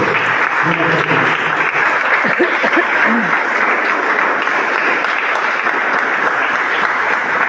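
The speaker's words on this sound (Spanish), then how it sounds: "Un aplauso a Jesucristo" Church congregation applauding during a Spanish-language service, a thick, continuous wash of many hands clapping at an even level, with faint voices and a brief vocal cry mixed in partway through.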